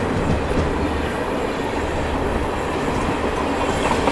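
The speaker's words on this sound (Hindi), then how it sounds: "Crossing with Barmer Bandra Humsafar Express" An express train, the Barmer Bandra Humsafar Express, rumbles past close by on the adjacent track, a loud and steady roar of rolling wagons with faint wheel clatter running through the whole stretch.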